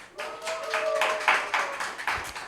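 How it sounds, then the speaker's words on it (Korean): Brief, uneven clapping from a youth group at a Sunday church service in Korea, a few seconds of handclaps with a faint tonal hum beneath. "박수 쳐요."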